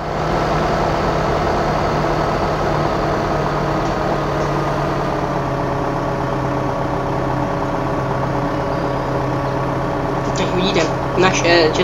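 A tractor engine in the video game Farming Simulator 15, with Czech-made machinery, drones in a steady, even idle-like hum for the whole stretch. A brief rattle of higher noise comes near the end.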